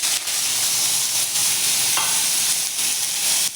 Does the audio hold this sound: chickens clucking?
no